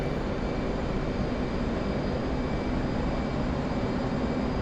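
A steady, loud jet engine drone from an aircraft in the DCS World flight simulator runs unbroken throughout, with no other sounds over it.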